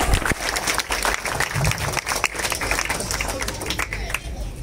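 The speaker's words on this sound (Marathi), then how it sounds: "त्या शिवसैनिकांसाठी जोरात टाळ्या होऊ दे।" A crowd at a former mayor's birthday celebration breaks into loud applause, a dense, uneven clatter of many hands with brief voices mixed in, lasting several seconds.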